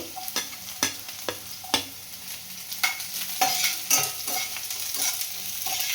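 Chilli frying in a pan for an egg chilli dish, with steady close sizzling broken by repeated sharp knocks of a spoon or spatula stirring against the pan, and no voices.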